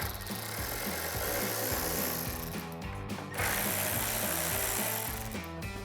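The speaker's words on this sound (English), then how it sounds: "So take a T15 torque socket and remove these 2 screws." A T15 Torx socket backs out screws from a Chevrolet Silverado 1500 tail light, giving a continuous close mechanical whir and grinding with a steady rhythmic pattern and a short break partway through.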